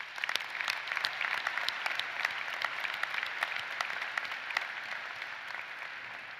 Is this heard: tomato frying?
no